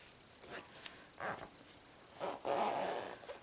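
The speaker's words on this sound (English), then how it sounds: "I'm going to open this zipper" Zipper being opened on a sewn box bag, several short quiet rasping pulls with pauses, the last one longer.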